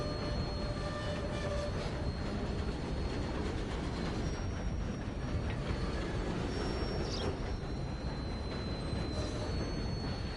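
A steam locomotive rolls along in Red Dead Redemption 2, a continuous loud rumble of wheels and rails with faint high squeals and whistling tones drifting over the steady roar.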